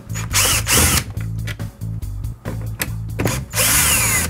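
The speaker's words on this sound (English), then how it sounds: "we can take a T15 Torx bit, and we're going to remove all the screws around the outside" A power driver with a T15 Torx bit backs out screws from the cover of a 1994-1998 Ford Mustang instrument cluster, loud whirring bursts starting and stopping in quick succession, close by and with no speech.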